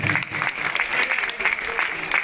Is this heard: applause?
yes